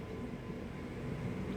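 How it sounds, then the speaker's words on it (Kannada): A train at Kadapa railway station gives a steady, faint low rumble with no break, heard alone without speech. "ಕಡಪ ರೈಲ್ವೆ ಸ್ಟೇಷನ್ ಅದು."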